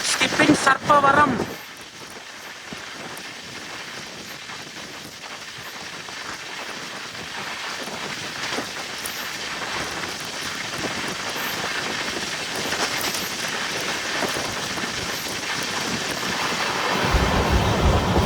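An LHB coach on the Tirupati Express rolls without stopping past Sarpavaram station, a steady broadband rush of wheels and wind that swells toward the end, with a brief loud burst at the start.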